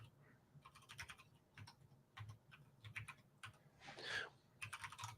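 Typing on a computer keyboard during a screen-sharing coding session, rapid clustered keystrokes in bursts with brief pauses, close and moderately loud, no talking.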